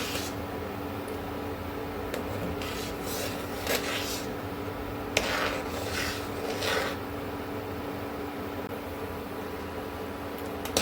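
Soup stirred in a pot after egg white is added: soft, repeated scraping and swishing strokes, quiet and close, over a steady background hiss, with no one talking.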